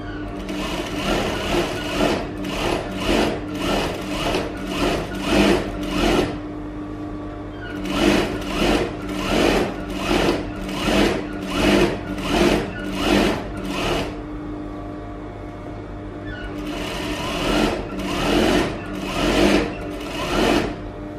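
Sewing machine running double stitches on fabric, loud and close, in rhythmic bursts of rapid needle chatter separated by short pauses, with no talking.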